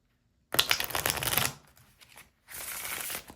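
Deck of tarot cards on poor cardstock being shuffled by hand, a loud riffling burst, a softer pause of light handling, then a second steady riffle, with no talking.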